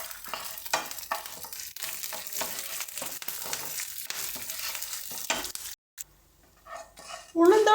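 Urad dal, dried red chillies and curry leaves fry in a pan for pirandai thuvaiyal, a close sizzle broken by stirring scrapes, fading to near quiet before a brief clatter.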